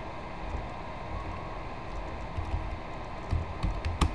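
Soft keystrokes on a computer keyboard as a search is typed, a quiet irregular patter of taps over faint background hiss, growing slightly busier toward the end.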